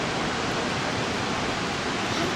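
Whitewater Falls near Cashiers, North Carolina, the highest waterfall east of the Rockies, gives off a steady, dense roar of falling water that stays loud and unbroken throughout, with no voices.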